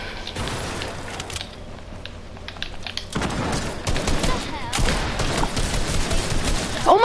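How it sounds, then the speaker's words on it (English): Dense bursts of rapid automatic gunfire in a video game, loud and continuous with a brief lull before the shooting picks back up, heavy and close throughout. "I was shooting!"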